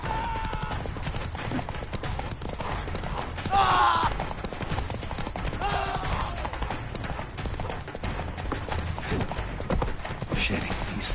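Roach galloping in The Witcher 3, fast clip-clopping hooves under busy chase sounds, with voices shouting over the ride.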